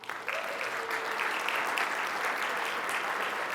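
Sustained audience applause at an awards luncheon, steady clapping from a large crowd filling the room throughout with no talking over it.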